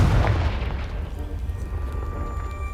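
A Confringo fire spell explodes against a pile of debris in Hogwarts Legacy, a deep boom up front that fades into a rumbling low tail with faint tonal game sounds over it.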